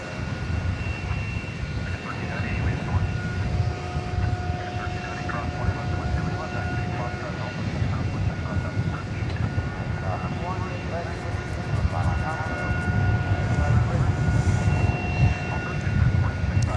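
An American Airlines Airbus A321 airliner lands at DFW Airport at night, a steady jet engine roar with a whining hum, while a voice talks over it.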